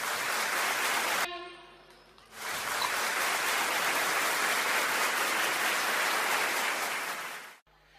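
An audience at a Teochew opera appreciation evening claps loudly and densely. The applause breaks off briefly while a tonal musical sound rings out, then swells back for several seconds before cutting off abruptly.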